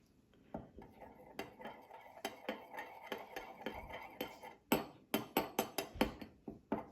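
Cinnamon stirred into apple pie filling in a bowl with a utensil, giving a run of close, sharp clinks and scrapes that come faster and louder toward the end, with no talking.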